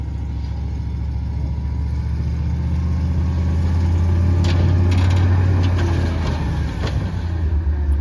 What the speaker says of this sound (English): he'd be driving a dump truck right there